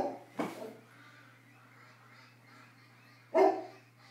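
A dog gives two or three short barks, one right at the start and a louder one after a quiet stretch, set against a faint steady hum.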